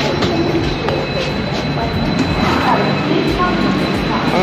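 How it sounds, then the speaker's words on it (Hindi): An Indian double-decker passenger train running from Jaipur to Sarai Rohilla in Delhi, a loud continuous rumble and rattle of the rolling train heard from on board with faint voices in the background. "क्या आप जानते हैं कि इंडिया में डबल डेकर ट्रेन भी है?"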